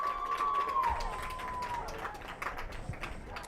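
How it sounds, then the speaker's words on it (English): A soccer crowd at a men's college regional match shouts loudly for a yellow card, a swelling roar of voices over a high sustained whistle, then scattered calls and claps continuing. "the crowd's asking to book the player."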